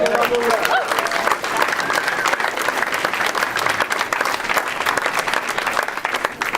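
Crowd applause fills a Bernie Sanders campaign rally in Milwaukee, a dense, steady wash of clapping with some cheering that stays loud and even throughout, with a voice briefly heard at the start.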